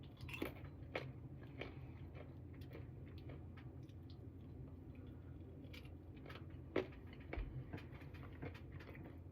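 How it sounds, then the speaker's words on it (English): Crunchy banana chips are chewed close up, with quiet, irregular crisp bites and crunches repeating over a low background hum and one sharper crack partway through. "Banana chips or crisps."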